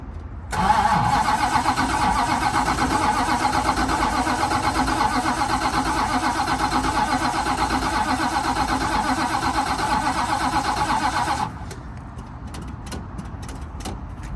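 A carbureted car engine cranks on its starter without catching, a loud, steady, close churning drone for about eleven seconds before cutting off, leaving faint ticks and quiet background noise.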